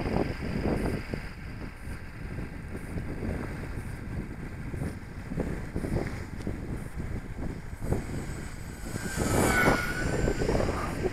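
An RC model F4F Wildcat on a four-cell battery with a T28 propeller flies overhead. Its electric motor gives a steady, moderate buzz, rising and falling slightly as it passes, under constant wind rumble on the microphone.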